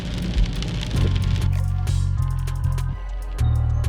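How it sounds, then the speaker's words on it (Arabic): Steady rain patters down outdoors in Austria, a broad continuous hiss with low tonal sounds layered underneath throughout. "تسمعون صوت العصافير والبلابل ويا هذا المطر"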